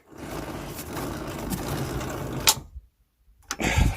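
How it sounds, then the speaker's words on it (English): Rear wheel of a Suzuki GSXR 750 motorbike spun by hand, a whirring mechanical rattle that cuts off abruptly as the back brake is applied, a short silence, then another burst of noise. "I'm going to spin it as fast as I can and then apply the back brake"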